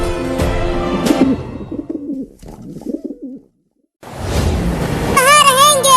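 A pigeon coos in soft, low throaty bursts, mixed with other sounds, followed after a brief silence by noisier rustling and whistling tones.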